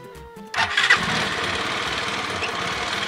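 A motorcycle engine cranks and catches, then settles into a steady, loud, close idle with no voices.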